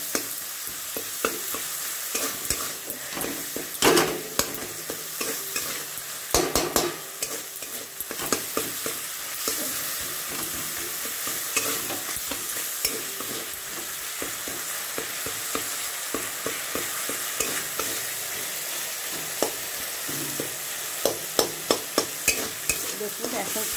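Green chillies and ginger paste sauté in a hot pan for a potato-and-paneer dish, a steady close sizzle broken by frequent scraping stirs and spatula clicks against the metal, with no talking.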